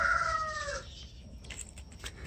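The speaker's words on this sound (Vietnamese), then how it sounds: "tiếng con gà gáy." A rooster crowing in a garden, one loud drawn-out call that cuts off in the first second, followed by faint chirping birds in the background.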